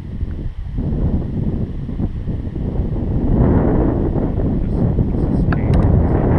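Wind sweeps across a lake near Monticello, Minnesota, a steady rushing roar that buffets the microphone and grows stronger and more constant toward the end.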